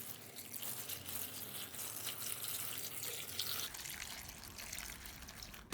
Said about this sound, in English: Pour in enough water to completely submerge the leaves.